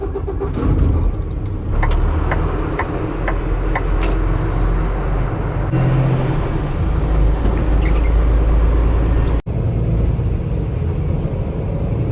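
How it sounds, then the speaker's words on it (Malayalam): A truck pulls away and drives on through the mountains of Montana, its engine a loud, close, steady drone with road roar beneath and a few brief clicks and knocks, and no talking. "ഇനി അപ്പം അങ്ങ് വണ്ടി എടുത്ത് പോവാം."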